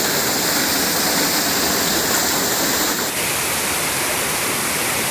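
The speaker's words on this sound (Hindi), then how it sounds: "तो देख सकते हैं हम लोग झरने के पास पहुँच चुके हैं।" Waterfall near Navi Mumbai roaring steadily at close range, a dense unbroken wash of falling water that stays loud for the whole stretch with no voices over it.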